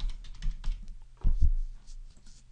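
A computer keyboard being typed on to enter a web search, with short bursts of quick, close key clicks separated by brief pauses and no voices.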